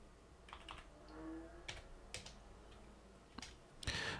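Quiet keystrokes on a computer keyboard while code is typed for a JavaScript 3D game engine, heard as scattered individual clicks with a sharper tap near the end, close but faint.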